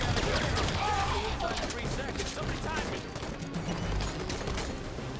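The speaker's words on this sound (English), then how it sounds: "They're just shooting the dead bodies." Rapid bursts of gunfire ring out in the video game Halo 5: Guardians, dense crackling shots layered over one another with clanking mechanical effects, loud and continuous throughout.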